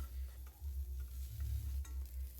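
Pointed gourd frying in oil in a pan, a continuous close sizzle with low rumbling bubbling and occasional stirring scrapes, no voices.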